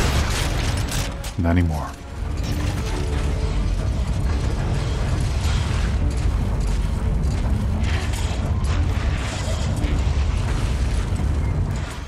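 Rocket launcher blasts and gunfire from the Dead Space 3 video game roar as a dense, continuous barrage of booming explosions and mechanical clatter, with a brief voice cutting in early.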